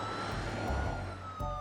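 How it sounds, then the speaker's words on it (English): A short, faint police siren toot with a steady wailing tone over low engine rumble, brief and somewhat distant. "Siren toots is pretty funny."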